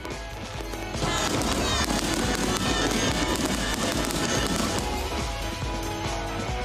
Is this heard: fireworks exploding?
yes